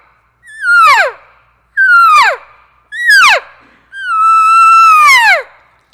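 A person imitates an elk cow calling for a separated herd mate: four loud, high, descending whistle-like cries, the last one longer and drawn out, each separated by brief silence.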